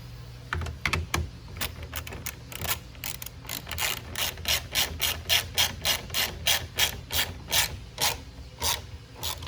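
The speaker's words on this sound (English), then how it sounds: "Same with the bottom ones, make sure you tighten them." Bolts being tightened with a hand ratchet while fitting a rear rack to a Venom Grizzly ATV, giving a long run of quick, evenly spaced clicks with brief pauses between bursts, close and fairly loud, with no talking.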